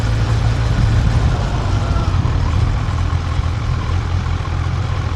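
A Kawasaki Ninja 1100SX motorcycle fitted with a Sport Tuning exhaust runs close by. A loud, steady low engine drone holds with little change in pitch.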